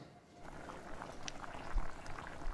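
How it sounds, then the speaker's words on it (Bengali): Katla fish head curry bubbles at a low simmer in a pan after the lid is lifted, a soft, steady burble of boiling liquid close by, quiet and without speech. "এটা ভালো ফুটছে।"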